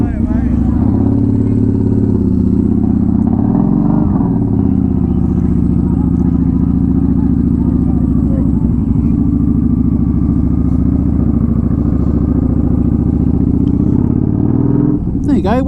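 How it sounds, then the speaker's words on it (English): Steady, loud engine rumble from motorcycles at the Great Yarmouth Wheels Festival, a continuous low drone close by with a brief rise near the end, with speech mixed in. "There's loads of bikes, loads of room for bikes."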